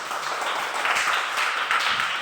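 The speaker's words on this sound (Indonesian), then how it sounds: "Tepuk tangan untuk kita semua." Group applause at the close of an Indonesian language lesson, a dense, even patter of clapping hands that holds steady for a couple of seconds, fairly quiet and without talk.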